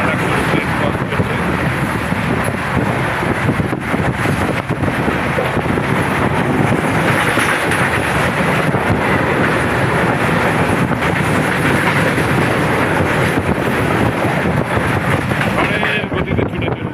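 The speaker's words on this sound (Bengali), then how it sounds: "বলতে বলতে আবার একটা ট্রেন ক্রস করছে।" A passing train crossing close by, heard from aboard a Humsafar express on a journey through Uttar Pradesh, gives a steady loud rumble and rush of wind and rail noise lasting throughout, with faint rhythmic clatter.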